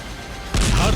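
After a moment of low rumble, a sudden loud bomb blast from a Russian attack in Ukraine erupts into a fireball and keeps roaring until the end.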